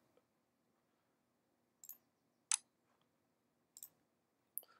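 Sharp mouse clicks in a quiet room, four crisp isolated taps spaced about a second apart with near silence between them.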